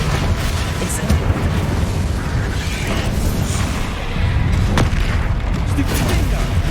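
Spell explosions and blasts from the Hogwarts Legacy video game, a dense, continuous barrage of booming bursts and crackling impacts at steady high loudness, with a few sharper hits standing out.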